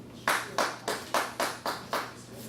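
A small group claps in a steady rhythm, about seven loud, evenly spaced claps close by, welcoming the next speaker at a youth huddle gathering.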